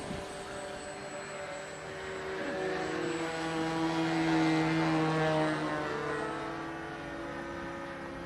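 An aircraft comes in to land, its engine drone slowly swelling to a peak in the middle and then fading, with shifting tonal whines over a steady rumble and no talk.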